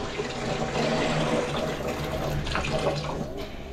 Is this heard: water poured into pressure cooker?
yes